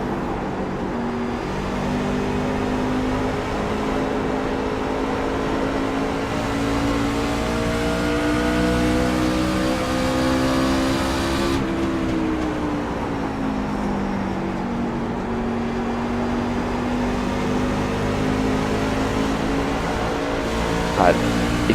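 Sustained engine drone from a NASCAR Camping World Truck Series truck racing at Phoenix in the iRacing sim, a steady loud note whose pitch rises and dips as the truck goes through the turns, with a voice talking over it.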